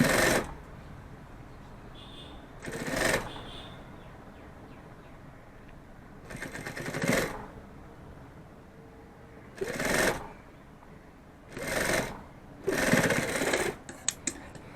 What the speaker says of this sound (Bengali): আর একটা সেলাই করে দেবো